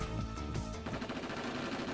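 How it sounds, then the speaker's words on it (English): Rapid gunfire bursts in the visual novel game Robotics;Notes, a dense, loud volley of repeated shots that fills the moment with no voices over it. "Simultaneously, the sound of gunfire rings out."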